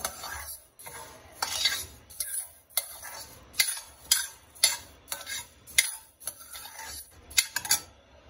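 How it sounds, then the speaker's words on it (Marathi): Dagad phool (stone flower) is roasted for Malvani masala, with a metal spoon scraping and clinking against a pan in a steady rhythm of sharp, close stirring strokes, and no talking. "मी दगडफूल भाजत आहे"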